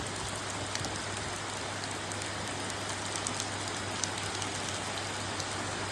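Steady rain pours down outdoors in a continuous, even hiss with scattered drip sounds and a low hum beneath, with no voices.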